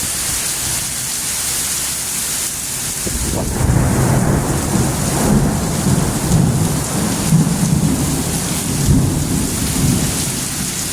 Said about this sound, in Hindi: स्पीड है बड़ी तेज़ बारिश है